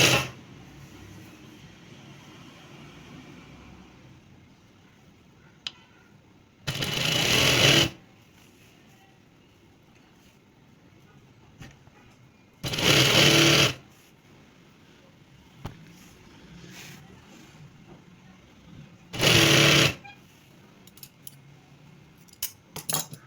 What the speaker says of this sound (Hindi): क्रीज पर लेस को रखकर सिलाई लगा देनी है